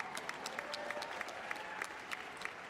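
Scattered, fairly faint clapping from a conference audience, individual claps standing out in an uneven rhythm without voices.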